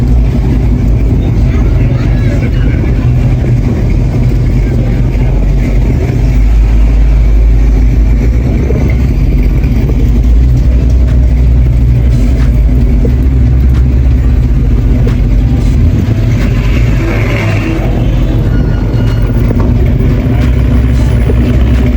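A classic American car's engine is revved hard, giving a loud, continuous, deep rumbling roar that stays close and dominant throughout.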